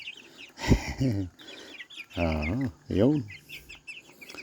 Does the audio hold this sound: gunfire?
no